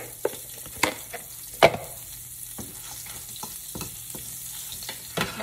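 Butter sizzles in a hot pan with a steady, close frying hiss, broken by several sharp taps and scrapes of a utensil against the pan.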